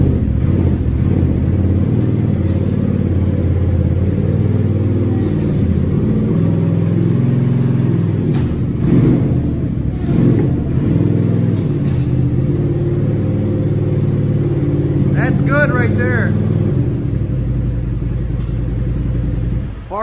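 A 2019 Polaris RZR Turbo XP side-by-side with a damaged frame runs with a loud, close, steady engine rumble that rises and falls slightly across the whole stretch, with brief faint voices near the end.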